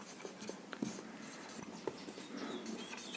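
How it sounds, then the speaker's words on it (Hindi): Writing on a board during a Class 10 science lesson on light, with a steady faint scratching texture and a few small taps, no talking. "तो यहाँ पर लिखते हैं अगला गुण आप लिखेंगे"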